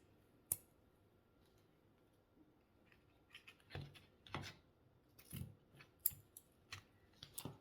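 Scissors snip Dollar Tree ribbon in a few quiet, separate crisp cuts and clicks, scattered irregularly over soft background handling.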